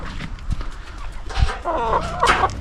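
Chickens cluck and squawk nearby, a busy run of calls growing louder toward the end, with some scuffling underneath.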